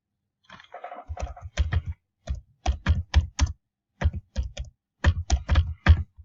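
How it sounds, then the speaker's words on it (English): Typing on a computer keyboard, close and clear, in short irregular bursts of key clicks separated by brief pauses. "add your voice or type in text."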